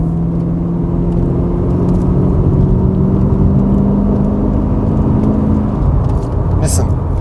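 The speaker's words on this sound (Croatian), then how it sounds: "Evo sad ću tu malo stisnuti gas." A Chevrolet Corvette C4 engine heard from inside the car, droning steadily with low tones that climb gradually as the throttle is pressed, while someone talks over it.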